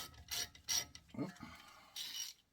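A hand ratchet clicks in several short, sharp bursts as a bolt is tightened during a brake pad and rotor change on a 2018 Ram pickup, with quiet pauses and a faint clunk between strokes.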